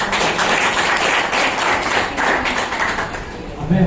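Audience applause at a coaching class function in a hall, a dense, steady patter of many hands clapping at moderate loudness for a few seconds.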